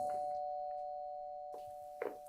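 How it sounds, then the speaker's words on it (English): A doorbell chimes a single sustained tone that rings out and slowly fades, followed by faint scattered knocks or rustles near the end. "I hear a doorbell."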